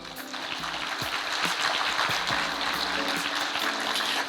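An audience claps for honor diploma students at a high school recognition ceremony, a steady, dense wash of applause that holds at the same level for a few seconds with no voices over it.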